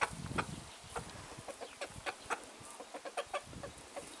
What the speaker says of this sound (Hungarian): ahogy a kukorékkal a kakas tökre vízhangzik